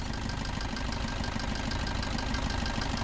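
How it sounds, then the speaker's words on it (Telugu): A Maruti Suzuki Brezza 1.5 litre diesel engine runs before decarbonization, a steady close idle with a rough, knocking low-end rumble and even vibration throughout, with no voices over it. "బిఫోర్ ఇంజక్షన్ ఒకసారి ఇంజన్ నాయిస్ని అయితే నోటీస్ చేయండి"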